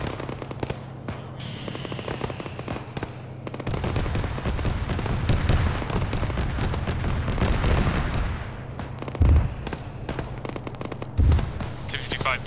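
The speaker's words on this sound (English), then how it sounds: "T-34 is cooking off" A T-34 tank cooking off in a military video game, its ammunition crackling and popping in rapid irregular bursts like gunfire over a steady low rumble, with a couple of louder thumps near the end.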